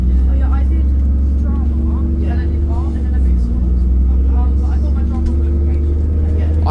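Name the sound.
ADL Enviro 400 Trident double-decker bus, ex Arriva London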